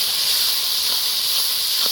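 Pressure-cooked peas and potatoes hitting hot sizzling masala in a Bengali kitchen, giving a steady loud hiss and sizzle that holds for the whole moment with no talk.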